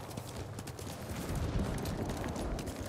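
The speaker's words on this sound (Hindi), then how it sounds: "ऐसे मेरे को अपने घोड़े को भगाना पड़ेगा।" A horse gallops in Ghost of Tsushima Director's Cut on the Iki Island expansion, rapid hoofbeats pounding steadily over a continuous rumble of movement, fairly loud and with no voices.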